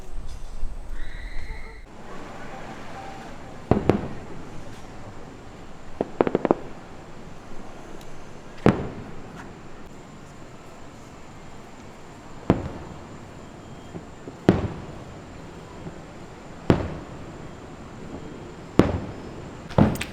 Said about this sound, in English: Just watching fireworks. Pretty loud?